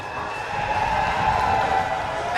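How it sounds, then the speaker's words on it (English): Wrestling crowd at a SoCal Pro show in Vista, California, cheering and roaring steadily as a heavyweight champion walks to the ring, a sustained wash of voices that swells slightly toward the end. "listen to that crowd"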